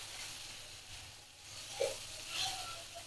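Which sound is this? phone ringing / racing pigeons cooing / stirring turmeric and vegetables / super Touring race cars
stirring turmeric and vegetables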